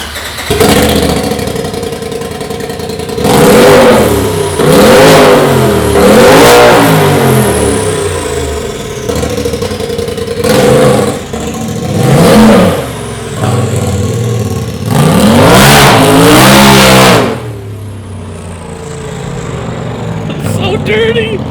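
A 2017 Polaris RZR XP Turbo side-by-side with an MBRP straight-pipe exhaust fires up and revs hard in repeated loud bursts, dropping back to a rough, throaty idle between blips, close and prominent.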